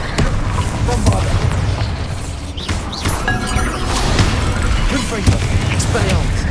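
Bombarda spell blast in Hogwarts Legacy amid a chaotic magic duel, loud booming and crashing impacts layered over continuous battle noise and scattered spoken spell incantations.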